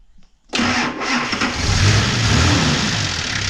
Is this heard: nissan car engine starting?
yes